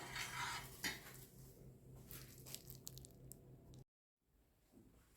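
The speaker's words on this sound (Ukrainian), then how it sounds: "І ставимо на маленький вогонь, помішуємо, доводимо до кипіння." A spoon stirs a chocolate mixture in a pot on a low flame on the stove, with soft scraping and clinking against the pot in quick strokes, then a brief silent gap before faint stirring resumes.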